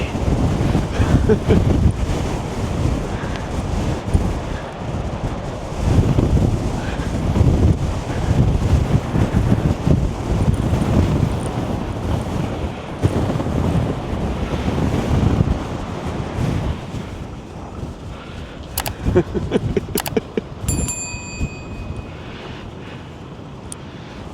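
Stormy wind buffets the coast at Cabo de Gata natural park, a loud, continuous roar of gusts and surf that batters the microphone throughout, with a few faint thin tones near the end.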